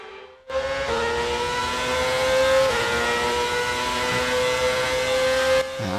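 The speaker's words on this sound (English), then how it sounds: "This is the Mercedes V8." A Mercedes V8 engine in an F1 racing video game roars steadily at high revs, its tone dipping briefly as if shifting gear, then cutting off near the end.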